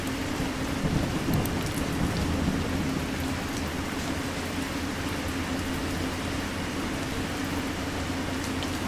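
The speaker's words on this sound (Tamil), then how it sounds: "எப்படி மழை பெய்யுது" Steady heavy rain pours in a bus-driving game on a route from Colombo to Jaffna in Sri Lanka, a constant close hiss with a low rumble underneath.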